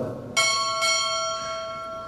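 Two clear strikes on a ship's bell during a U.S. Navy chief pinning ceremony, evenly spaced about half a second apart, with rich sustained ringing tones fading slowly in a quiet hall.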